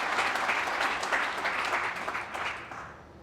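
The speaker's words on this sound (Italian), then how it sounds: "un applauso forte ai miei consiglieri" Applause for councillors at a press conference: a dense, steady clapping from a crowd that holds for a few seconds and slowly thins out.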